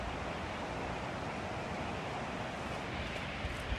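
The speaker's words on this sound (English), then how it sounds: "And how peaceful is it right here by the Chagrin River?" Steady broadband rush of flowing water beside the Chagrin River, heard from the riverbank as a constant, even wash with no voices over it.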